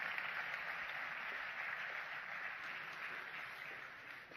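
An audience gives a steady wash of applause to welcome a host at a panel event about stadiums and safer events, fairly faint and fading slightly toward the end.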